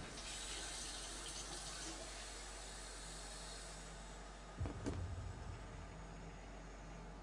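Water runs steadily from a tap as a constant broadband hiss, with a brief louder splash and gurgle near the end before the flow settles again.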